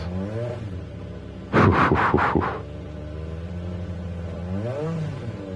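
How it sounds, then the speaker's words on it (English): A Jaguar F-Type Gr.3 race car in a racing video game revs its engine. A steady idle hum rises and falls, then a harsh, loud burst of blips rasps for about a second before settling back to idle. "That's an angry engine."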